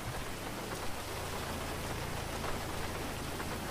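Steady rain falls in a GTA roleplay game, a soft, continuous hiss of drops on surfaces with a low rumble underneath, heard on its own without talking.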